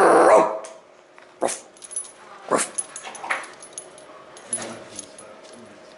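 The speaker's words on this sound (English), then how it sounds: "when the dog shakes his head, you hear the wind chimes inside it." Several bursts of metal tags jangling as a dog shakes, separated by short quiet gaps, close by with a faint low hum underneath.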